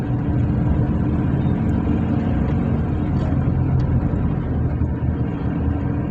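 Pickup truck with an ECU fault, misfiring and unable to gain speed, running on a trial drive; a steady, close, low engine drone with rough, uneven texture continues without pause.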